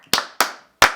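Three loud, sharp hand claps, close and separated by short silent gaps, with quick decays and no talk.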